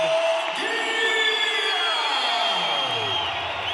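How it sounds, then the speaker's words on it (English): At the Footprint Center, a packed boxing arena roars for Jaime Munguia's ring introduction, a dense continuous wall of cheering and whooping that holds steady and loud. "Listen to that crowd."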